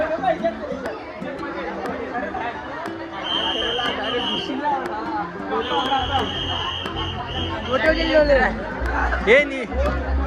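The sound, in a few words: crowd chatter at a water park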